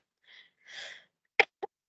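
A presenter at a co-op and condo owners roundtable meeting coughs: two soft, breathy exhales followed by two short, sharp coughs, close and clear, with no talking.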